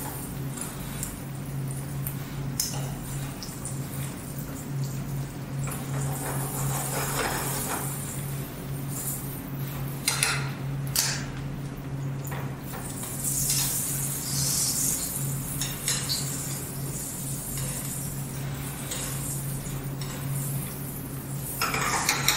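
Carrots, salad greens and bacon sizzle steadily in a pan, with a continuous frying hiss, low hum and occasional clinks of a utensil against the pan throughout.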